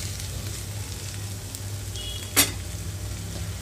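Ivy gourd (dondakaya) pieces fry in a pan after salt is added, giving a steady low sizzle throughout with one brief sharp clink partway through; no one speaks.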